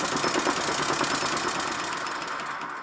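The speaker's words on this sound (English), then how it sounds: "As the engine suddenly burst into life, it took me quite by surprise." A 5 inch gauge OS model of Stephenson's Rocket steam engine running: a steady rapid chuffing beat, close and fairly loud, tapering slightly toward the end with no voices.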